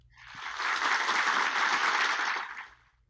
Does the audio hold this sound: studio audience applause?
yes